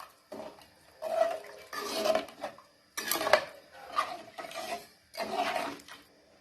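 Tamarind kulambu with mochai beans being stirred in a pot, giving bursts of close metallic scraping and clinking of a spoon against the pot in several separate rounds.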